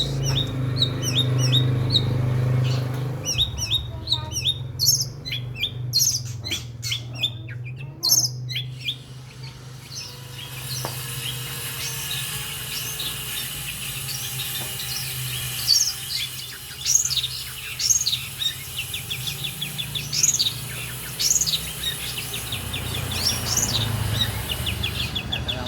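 Long-tailed shrike (pentet) delivering a chattering song of repeated short calls, fairly near and clear over a steady low hum, with other faint bird chirps and insect buzz in the background.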